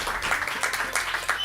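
Studio audience applauding a team at the grand finals of a gaming league, a steady patter of many hands clapping close by, with no talk over it.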